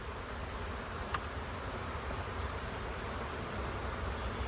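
Honeybees buzzing steadily around an open hive while a beekeeper adds a super to a strong colony, with foragers returning laden with pollen; a continuous, moderately faint hum fills the clip with no talking.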